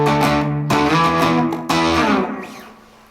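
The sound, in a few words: guitar through DIY Klon clone overdrive pedal from Wish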